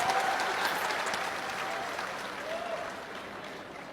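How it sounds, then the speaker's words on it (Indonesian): An audience at a public question-and-answer event with politician Anies claps in a sustained burst that starts loud and slowly fades over several seconds, with no one speaking over it. "Kasih tepuk tangan dulu."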